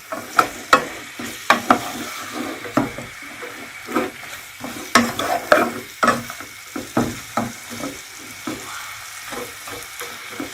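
Diced beef sizzling as it is sautéed with spices in a pan for stuffed red peppers, with frequent clacks and scrapes of a spoon stirring over a steady fry, the strokes coming in irregular bursts.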